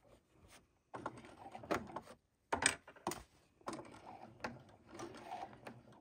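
A sewing machine stitches through heavy, thick layers of a pant hem in short mechanical bursts separated by brief pauses, fairly close and moderately loud.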